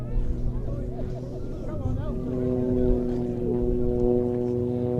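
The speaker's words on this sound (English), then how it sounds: "the muscle biplane getting airborne immediately" A muscle biplane with a significantly uprated Lycoming engine and propeller takes off at an air show, a deep, steady droning engine note rising gradually amid crowd babble.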